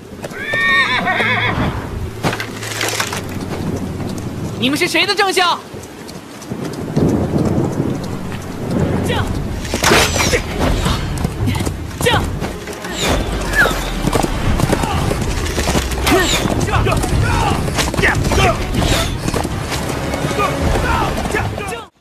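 Horses whinny and neigh repeatedly amid pounding hooves, with rain and rolling thunder underneath and occasional voices, building into a loud, dense chase scene.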